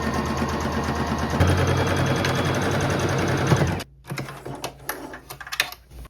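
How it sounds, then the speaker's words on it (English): A sewing machine runs a straight stitch in one steady, fast whirring burst for about four seconds, then stops, followed by light handling clicks and rustles of fabric nearby. "I'm doing a straight stitch with my tension set between a 6 and a 5, and my stitch length is between a 3 and a 2."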